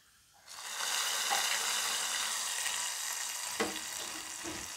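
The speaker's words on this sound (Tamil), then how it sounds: "பார்த்திங்களா, நல்லா ஃப்ரை ஆகிடுச்சு. திராட்சைலாம் அப்படியே நல்லா புஸ்ஸுன்னு ஊதி வந்துருச்சு" Raisins sizzling in hot fat in a pan while payasam is made, a steady broad frying hiss that starts abruptly and runs unbroken, close and fairly loud, with a few faint utensil clinks and no talking.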